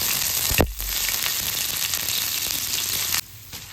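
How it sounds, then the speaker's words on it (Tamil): Paneer fries in oil with a dense, steady close sizzle, marked by a single thump from a utensil early on and a brief drop in loudness near the end. "இதை பன்னீரை பொரிச்சு எடுத்துடலாம்."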